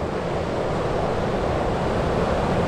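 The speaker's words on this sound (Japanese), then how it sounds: "もう波ありそうや。 ありますね、ありますね。" Ocean waves breaking at a surf point, a continuous loud roar of surf with wind rumble, steady throughout and with no voices.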